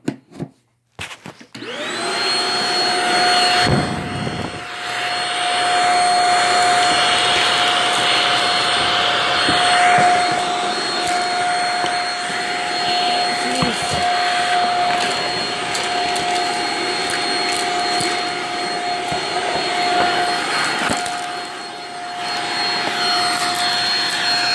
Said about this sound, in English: I need to clean this vacuum as well.